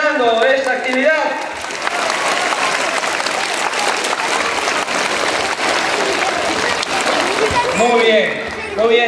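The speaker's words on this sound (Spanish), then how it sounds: "Fuertes palmas para Jesús." Loud, sustained applause from a crowd at a children's Christmas event in Pomabamba, with Spanish speech over it at the start and again near the end.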